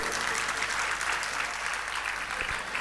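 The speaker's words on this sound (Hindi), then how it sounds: "मुझे पता था आप तालियां बजाएंगे, लेकिन इतना नहीं पता था कितनी मरी मराई कमजोर तालियां बजाएंगे।" An audience at a Hindi motivational talk gives a steady round of applause, a dense, even patter of many hands clapping at moderate volume for a few seconds, with no speech over it.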